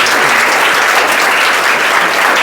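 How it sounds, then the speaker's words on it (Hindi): Loud, continuous applause from a room of students and teachers at a school prize distribution for a grammar test, dense clapping held steady throughout. "ताली बजा दो इसके लिए"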